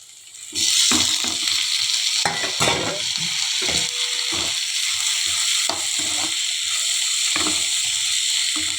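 Chopped curry leaves and small-cut tomatoes fry in a pan for idli masala, hissing and sizzling steadily while a spoon stirs and scrapes through them.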